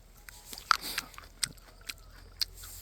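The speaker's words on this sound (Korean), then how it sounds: "냉감나무 열매입니다. 다시 먹어보도록 하겠습니다." Wild greenbrier (Smilax) berries are bitten and chewed close up: a few sharp, crisp crunches spaced apart, with soft wet chewing in between and no talking.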